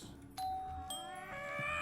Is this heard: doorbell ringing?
yes